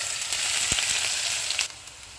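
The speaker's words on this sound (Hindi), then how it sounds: "ऑयल गर्म हो गया, इसमें प्याज डालेंगे।" Sliced onions frying in hot oil for chicken tikka pulao make a steady, close hiss of sizzling with a single sharp crackle, easing slightly quieter toward the end, no talk.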